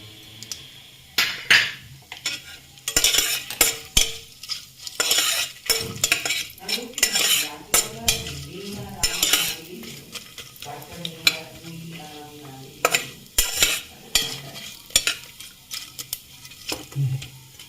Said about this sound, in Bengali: আর এর সাথে কাজুগুলো ভেজে নিলাম।